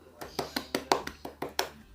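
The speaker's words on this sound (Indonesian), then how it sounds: "Berarti tepuk tangan dong buat Ucup." Light, slow handclaps from a classroom of students, about ten evenly spaced claps in two seconds, soft and close, like a small scattered applause.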